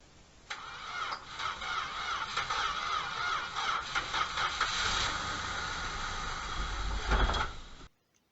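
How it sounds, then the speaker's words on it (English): A rusty 1974 Dodge Charger, left nearly 20 years in a field, cranks and fires up, its engine running steadily and loudly for several seconds before cutting off abruptly. "So now the engine does start."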